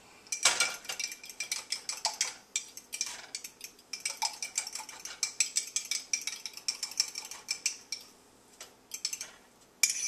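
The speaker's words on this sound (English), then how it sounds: "I stir these up with a fork because it breaks the yolks up a little bit better" Fork whisking eggs in a bowl to break up the yolks, a quick run of close, steady clinks and scrapes that stops briefly near the end before a final tap; no talking.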